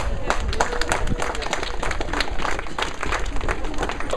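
Sustained crowd applause and clapping at an outdoor anti-fracking march, a dense, steady wash of many hands close by with scattered cheers, lasting the whole stretch at even loudness.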